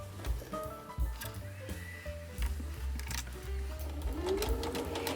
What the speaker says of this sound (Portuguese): Vamos passar a máquina para aqui e vamos costurar as pinças.